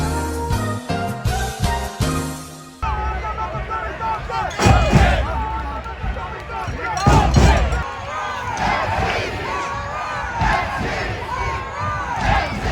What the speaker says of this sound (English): Love seeing the whole crowd get into the chant, not just the supporters end.